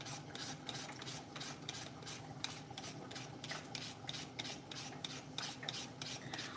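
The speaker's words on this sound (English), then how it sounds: "So let me finish grating a little bit because I need a little bit more." Green papaya being grated by hand for Lao papaya salad, a steady rapid rasping scrape repeating in quick strokes, close and fairly loud, with no talking.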